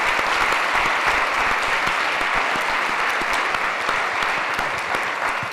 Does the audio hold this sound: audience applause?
yes